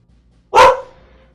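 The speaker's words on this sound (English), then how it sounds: "I'm going to kill that dog." A single loud, close dog bark, sharp and short, ringing out against near silence.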